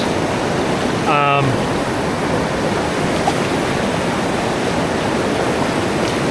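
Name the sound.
river rapid on the Hiwassee River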